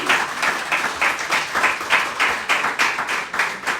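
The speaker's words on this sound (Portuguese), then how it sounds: "Você pode aplaudir ao Senhor com o seu melhor?" A church congregation applauding together in rhythmic unison, loud claps pulsing steadily at roughly three per second, close and without talk.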